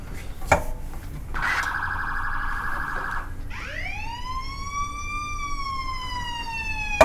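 A siren plays through a phone speaker, first a flat electronic tone, then a rising wail that sweeps up and holds, with a couple of clicks.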